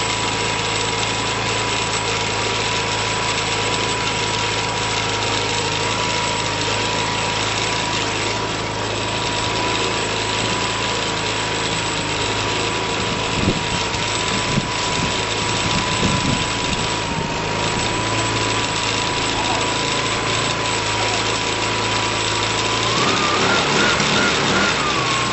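Swapped engine of a 2012 Piaggio Typhoon scooter running after a carburetor change, a steady near idle with a sustained whine and rattly vibration, revving up briefly at the very end.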